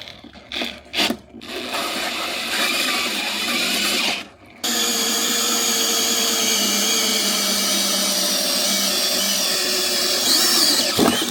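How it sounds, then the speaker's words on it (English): A hole saw drilling into part of a Harley-Davidson motorcycle: a few short, jerky bursts as it grabs, then a loud, sustained grinding whine that runs on steadily to the end. "That's why I don't like hole saws. They're scary."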